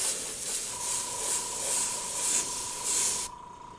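An airbrush spraying Alpha 6 Corporation paint in steady back-and-forth passes gives a continuous hiss that swells and fades in rhythm, with a faint tonal whine, and cuts off sharply near the end.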